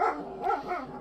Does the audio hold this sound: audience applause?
no